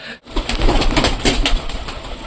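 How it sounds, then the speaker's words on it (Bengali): Close pigeons coo in soft, throaty bursts, with a flurry of wing flaps and shuffling among them. "আজকে সব পায়রাগুলো উল্টো পাল্টা দাঁড়িয়ে আছে"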